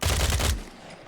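A Hyde .30 automatic carbine firing a rapid burst in Fallout 4, several heavy booming shots run together for about half a second, loud and close, then a fading tail, with no talk.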